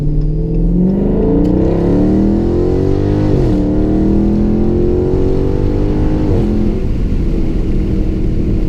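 A loud Dodge Charger Scat Pack with a mid-muffler delete revs hard in a full pull and climbs steadily in pitch with a throaty exhaust roar, briefly dipping at each shift before pulling again.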